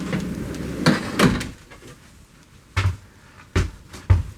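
A newly built wooden storage drawer in a workshop slides along its runners and closes with several soft thuds and knocks, close by and fairly quiet, with no talking.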